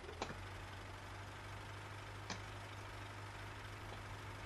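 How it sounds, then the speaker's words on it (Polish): A tractor engine idles steadily in Farming Simulator 15, a low, constant hum with a couple of faint clicks over it and no talking. "to weźmiesz mój ciągnik"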